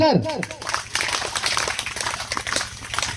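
A crowd at a speech event claps together in a steady rhythm, a dense noisy wash of hands that follows a brief spoken call at the start.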